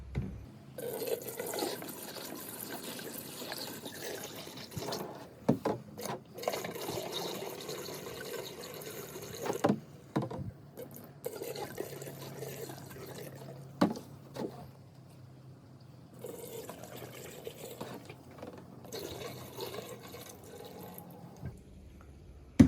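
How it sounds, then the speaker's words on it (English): Water pours into the P-trap drain of an RV shower in a 2021 Keystone Cougar fifth wheel during winterizing, a fairly steady liquid splashing and gurgling with brief pauses and clunks, close and moderately quiet. "let's fill your P-trap"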